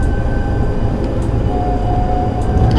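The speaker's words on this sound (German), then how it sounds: "Die Straßenbahn kommt." A tram approaches in the TramSim München simulator game, a loud, steady rail rumble with a sustained tonal whine building near the end.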